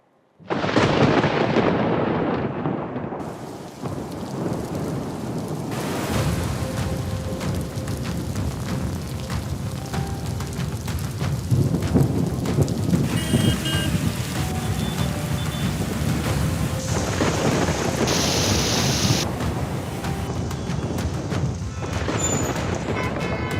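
Heavy monsoon rain pours down steadily in a dense, loud hiss on surfaces, broken by rolling rumbles of thunder and booming cracks, continuous throughout with no voices.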